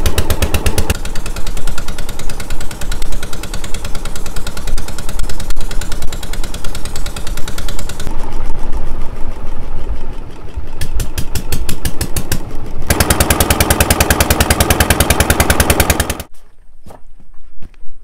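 A motor boat's loud engine runs with a rapid, rattling putter that shifts in intensity, then cuts off near the end as it stops at Lalganj sea beach, leaving quieter background.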